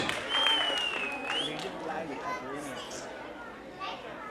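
An audience claps at a dance academy's annual function, mixed with crowd chatter and children's voices. A whistle-like tone sounds near the start, and the noise is moderately loud and settles gradually.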